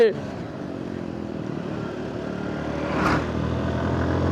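Motorcycles race along a road, their engines droning steadily with a rising whine partway through, heard at a moderate distance under background noise while someone talks.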